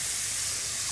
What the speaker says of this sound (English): when you throw the veal in, it's going to sear